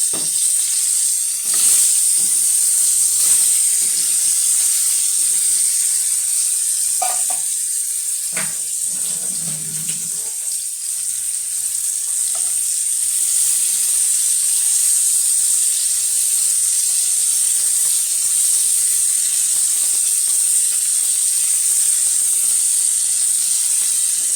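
Pointed gourd (potol) pieces fry in oil with a constant high-pitched hiss, a few soft clatters from the pan early on, then a long, even sizzle with no talking.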